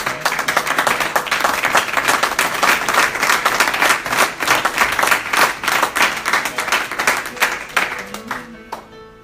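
A church congregation claps loudly and steadily in rhythm for several seconds, close and full, before the applause thins out and stops.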